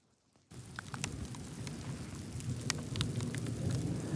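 In the countryside outside Corson, South Dakota, after a brief silence, thunderstorm rain begins pouring steadily, a dense hiss with scattered drops and low rumbling, growing slightly louder throughout.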